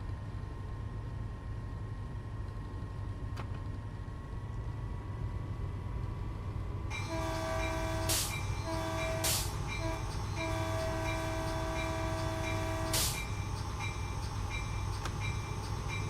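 A train in Train Sim World 3 on a passenger service sits under a steady low rumble, then from about seven seconds a loud sustained horn sounds in several long blasts over the running noise.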